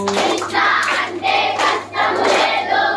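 An audience claps hands in rhythm while chanting together, the loud, dense claps and voices coming in repeated waves close by.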